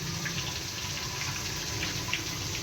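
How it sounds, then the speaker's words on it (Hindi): A piece of chicken is dipped into a bowl of water while being coated in flour for a homemade zinger burger, giving a faint, brief splashing and sloshing over a low background hum in a kitchen. "फिर हमने पानी में डिप करना है इसको इस तरह"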